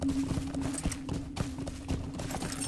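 Video game horse hooves clip-clop in a quick, uneven rhythm on a hard surface, moderately close, with a steady low hum underneath and no talking.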